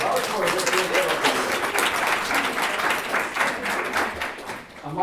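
A lecture audience breaks into dense, sustained applause, with many hands clapping together in a loud, continuous wash of claps throughout.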